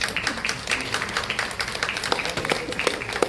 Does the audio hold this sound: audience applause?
yes